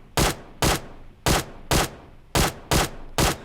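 A QBZ assault rifle in the video game PUBG Mobile fires seven single shots in a fairly even rhythm, each a sharp, loud crack with a short tail, heard close.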